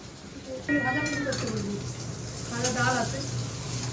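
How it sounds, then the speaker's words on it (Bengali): Spiny gourd and potatoes fry in a pan at home, a steady soft sizzle running underneath while voices talk close by. "কাঁকরোল ভাজা আর আলু ভাজা"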